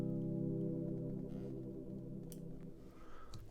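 A sustained harmonic tone passes through the Soundtoys Crystallizer plugin's Space Washer preset, giving a shimmering, washed texture that stays fairly quiet and gradually thins out over a few seconds.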